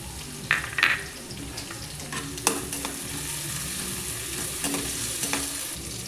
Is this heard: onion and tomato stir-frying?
yes